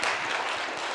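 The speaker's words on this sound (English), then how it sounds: "You can clap." A lecture-hall audience breaks into brief, steady applause, many hands clapping together in a dense wash of sound that holds even throughout.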